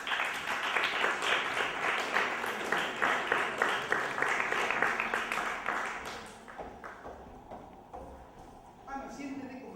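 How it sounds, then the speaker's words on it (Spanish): Strong applause from a theatre audience at a variety show with a magic act, dense steady clapping that fades off toward the end as a voice begins speaking. "Para que pido por favor un fuerte aplauso."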